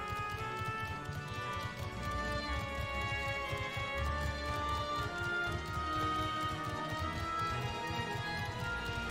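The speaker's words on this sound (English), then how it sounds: "No, it's just a horse." Horse hooves clip-clopping in Final Fantasy XIV, a quiet, steady trotting rhythm that continues throughout under in-game music.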